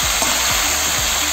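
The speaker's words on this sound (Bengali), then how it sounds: "কুমড়ো শাক দিয়ে দিচ্ছি।" Pumpkin leaves frying in a pan with ridge gourd and potato for a Bengali shrimp vegetable dish, giving a steady close sizzle with a few soft stirring scrapes.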